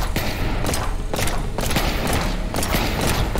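Gunshots in the Propagation VR horror video game, a run of heavy, booming shots spaced about half a second to a second apart, loud and close, with no voices heard.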